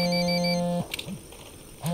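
A phone rings in the video game Tom Clancy's Ghost Recon Wildlands, a steady electronic ring tone that cuts off and is followed by short bursts of chirping ringing, clear and close.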